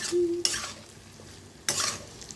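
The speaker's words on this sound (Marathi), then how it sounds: "असं भाजून घ्यायचं तेलात" Something roasts in hot oil in a pan for a ridge gourd and curd dish: two loud bursts of sizzling hiss, one short and one longer, with a quiet low hum between them.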